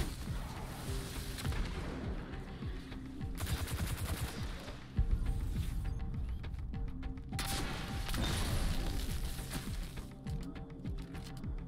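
Rapid gunfire from a weapon in the shooter game Destiny 2, played on Stadia, with dense repeated bursts and heavy impacts sustained loudly across the whole stretch, broken by brief lulls and a sharp blast partway through.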